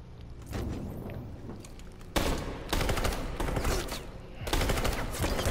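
Sustained bursts of gunfire from armed forces opening on android protesters in Detroit: Become Human, dense rapid volleys starting and stopping in three loud waves with brief lulls between.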